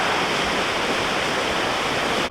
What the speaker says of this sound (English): this water is flowing pretty good for an attraction that has been closed for quite a while now